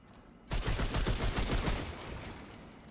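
Gunfire from the co-op shooter Remnant II, a dense burst of rapid shots that starts abruptly and rattles on for over a second before tailing off into echoing decay.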